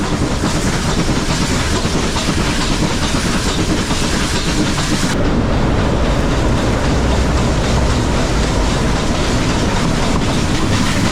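Nilgiri Mountain Railway steam toy train running, a loud, continuous close rumble and clatter of rail cars with steady hissing, no voices.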